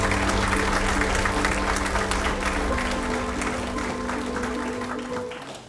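An audience at a white coat ceremony claps energetically to welcome Dr. Umar Ayub Khan, dense and even at first with a steady musical tone underneath, then slowly tapering off toward the end.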